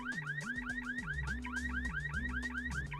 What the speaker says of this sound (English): the alarm robot's nearby